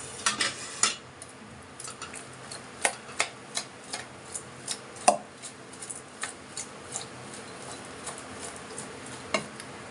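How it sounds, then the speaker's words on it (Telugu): Dhokla batter stirred in a bowl, a spoon clinking and tapping against the sides in irregular sharp ticks over a quiet wet swishing, close by and with no talk. "ఇప్పుడు మొత్తం మిక్స్ చేద్దాం"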